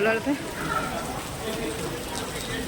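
Heavy rain pours outdoors at Science City Ahmedabad beside the robotics gallery, a dense, steady hiss filling the whole stretch, with a brief voice near the start.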